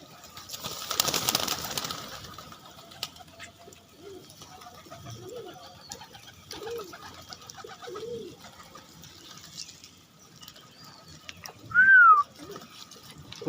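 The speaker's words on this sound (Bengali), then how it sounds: "কবুতর যখন খাবার খায়" Pigeons eating black paddy feed give a series of soft, low coos at a steady spacing, with faint pecking and rustling nearby and one brief higher call near the end.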